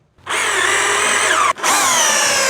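Power drill driving screws into a wooden board for a homemade shooting table, a loud steady whir close by, with a momentary pause before the drill spins up again.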